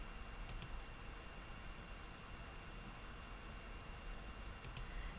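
Computer mouse clicking while a website title is edited, two quick pairs of sharp close clicks, one near the start and one near the end, over a quiet hiss.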